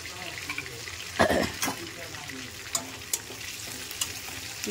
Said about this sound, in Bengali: এই তেলেতে আমি ফোড়ন দিয়ে দেবো তেজপাতা, এলাচ, লবঙ্গ, দারচিনি আর শুকনো লঙ্কা আর 5 ফোড়ন।